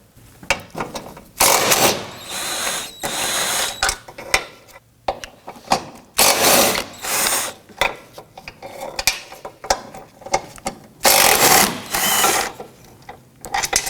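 A ratchet loosens 14mm bolts on the rear bumper of a 2018-2024 Toyota Camry. It gives loud, rapid clicking bursts, repeated in several separate runs with short pauses between them.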